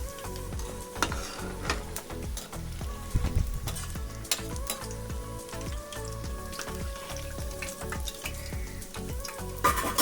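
Egg snacks fry in oil on low heat until golden, a steady close sizzle and crackle running throughout with occasional soft knocks from turning them, no voices.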